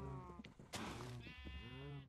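Several sheep bleat in Minecraft Java Edition, wavering close calls that overlap each other, with a short dull thud in the middle and a low background tone.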